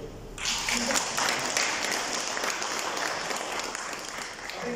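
Sustained audience applause at an HR Café business event in Mauritius, a dense, steady wash of many hands clapping that starts abruptly and holds at an even, fairly loud level throughout.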